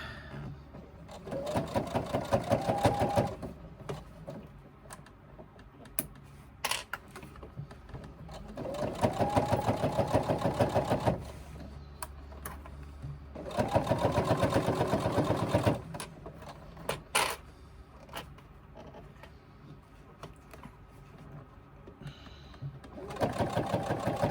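A sewing machine stitches a crossbody bag in three long, steady whirring bursts with pauses between, the motor close and clear, with brief clicks and handling noises in the gaps.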